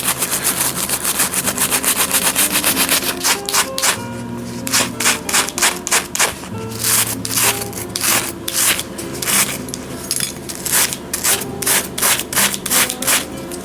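A cassette from a 25-year-old Trek 7300 bicycle being scrubbed by hand with EcoTech degreaser, loud close rhythmic brushing strokes, first in a fast even run and then in quicker irregular bursts with short pauses.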